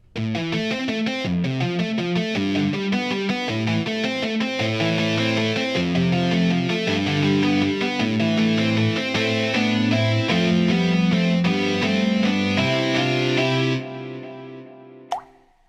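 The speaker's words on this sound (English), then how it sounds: "Now let's listen to one of the muted electrics with distortion." A distorted muted electric guitar patch from a sound workstation chugs out fast palm-muted notes and chords in a dense, continuous riff, loud and gritty, ending abruptly with a short click.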